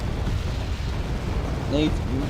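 Artillery fire in Wargame Red Dragon, a steady low rumble of distant shelling and explosions rolling throughout, with a brief tonal whine near the end.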